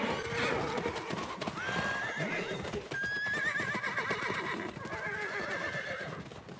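Horses clip-clop and whinny continuously as herdsmen round up their livestock on open steppe plains, hoofbeats dense and close with several loud neighs rising over the trampling.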